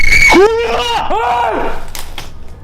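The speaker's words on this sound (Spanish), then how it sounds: "se escuchó detrás de ellos un sonido breve pero extremadamente aterrador. Un sonido que, como señaló uno de ellos, se parecía bastante al grito de Banshee." A brief, eerie wailing scream likened to a banshee's cry, caught during a paranormal ghost hunt: several rising-and-falling howls close by, fading into quieter rustling.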